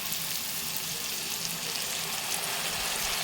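Mushrooms fry in a pan with salt for a mushroom chilli dish, producing a soft, even sizzle that hisses continuously at a low level without any talking.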